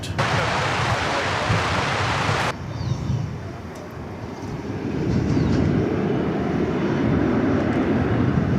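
An airliner arriving at DFW Airport from Bloomington, Illinois gives a continuous broad roar. A hissing layer cuts off early, the noise dips briefly, then swells louder again as it passes fairly close.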